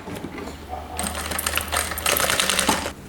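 Sewing machine stitching bias-tape strips in short fast bursts, close and fairly quiet, with a brief pause midway and low background hum.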